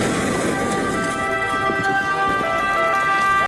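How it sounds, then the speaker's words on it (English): An emergency vehicle siren wails steadily over a dense patter like rain, loud and close for a few seconds before cutting off abruptly. "don't forget to turn the siren off before the emergency vehicle tips over."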